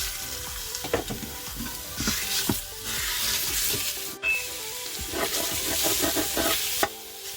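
Spicy Italian sausage sizzles and fries in an Instant Pot with no added oil, while a utensil scrapes and breaks it apart in repeated close stirring clatters over steady crackling.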